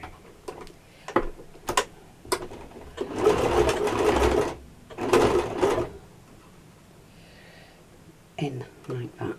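A sewing machine stitches a small apron in short bursts, quick mechanical whirring runs broken by pauses and clicks of handling the fabric, close up, with someone speaking between the runs.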